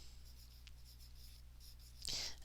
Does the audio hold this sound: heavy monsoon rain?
no